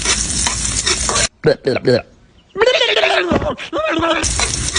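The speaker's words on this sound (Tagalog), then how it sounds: "Habang iginigisa ang bawang at sibuyas." Garlic and onion sautéing in a hot pan for a Quezon-style pork pochero, with loud close sizzling and spatula stirring that briefly cut out midway while a person talks over it.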